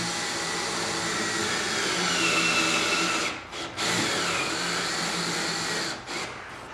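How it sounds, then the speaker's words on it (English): Cordless drill with a Phillips bit driving stainless steel screws into a Club Car golf cart body, whirring loud and close, with two brief pauses where the motor stops between runs. "grab the stainless steel screws that are provided in the kit and a drill with a Phillips bit and put the screws directly through the body"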